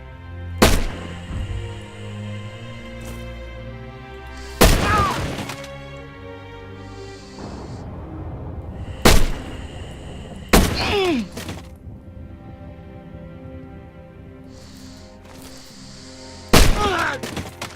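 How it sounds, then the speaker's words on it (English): A StG 44-style MKB rifle in the Rising Storm 2 video game fires sharp, loud single shots, about six spaced irregularly, each with a booming echoing tail over quiet background game ambience. "let's compare to the MKB"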